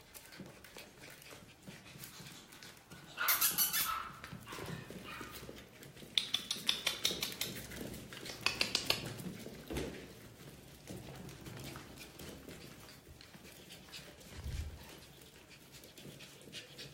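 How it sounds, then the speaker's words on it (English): Eight-week-old Biewer puppies pant and give a few sharp yips and whimpers close by, with bursts of quick high barking in the middle and quieter breathing and rustling between. "those puppies, they're all like 8 weeks old"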